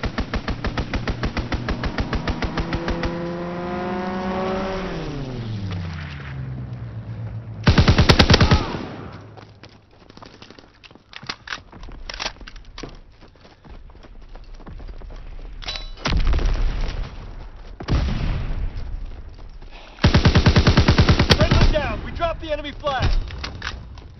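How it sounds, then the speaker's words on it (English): A video game aircraft strafing run: sustained rapid machine-gun fire pounds close and loud, a descending engine whine sweeps through, and heavy bursts and thumps follow in waves. "Strafing run inbound."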